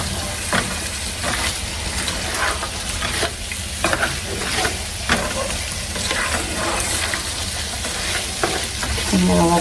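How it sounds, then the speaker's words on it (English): Potato mixture frying in a pan, a steady broadband sizzle with scattered stirring scrapes and clinks, close and continuous throughout. "I'm gonna let this fry."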